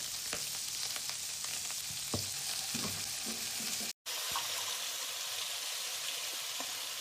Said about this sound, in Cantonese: 煎香燒肉之後落蠔油